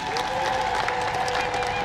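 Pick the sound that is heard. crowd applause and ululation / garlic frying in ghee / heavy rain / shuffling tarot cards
crowd applause and ululation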